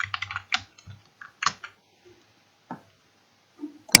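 Someone types on a computer keyboard while filling in a table in Microsoft Word. Close, crisp key taps come in short, irregular bursts with pauses between them, and no one talks.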